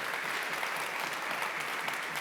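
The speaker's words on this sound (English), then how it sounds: "everybody, round of applause for Brendan." An audience at a design conference in Toronto claps steadily throughout, a dense, even round of applause with no voices standing out.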